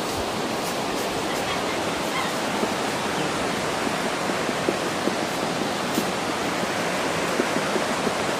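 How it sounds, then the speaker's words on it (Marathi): A waterfall below a dam roars as a steady, loud, broadband rush of falling water, close by and continuous, with someone speaking faintly over it. "तर मित्रांनो आता धबधबा इथे खाली आहे."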